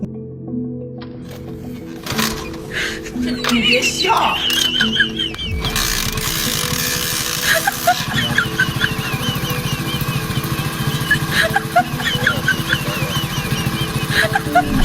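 After a few seconds of quieter background noise, a motorcycle with a broken kickstarter tied up with rope idles nearby with a steady throb and rattling mechanical clatter.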